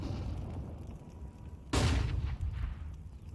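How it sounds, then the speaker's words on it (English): A flashbang grenade detonates in Counter-Strike 2 during a competitive esports match, one sharp loud burst with a short ringing decay rising out of steady game ambience. "Nice flashbang"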